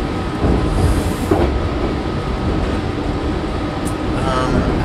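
Loud, steady rumble of a moving train heard from inside the carriage, with rattling and a constant low roar.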